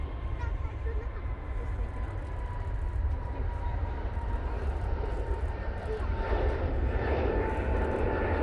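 An airliner departing Manchester Airport for Heathrow, a steady distant engine rumble that grows somewhat louder near the end, with someone talking over it.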